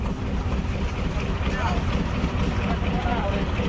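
A hilsa fishing trawler's engine drones loud and steady on a rough river in the Sundarbans, with wind buffeting the microphone over the constant low rumble.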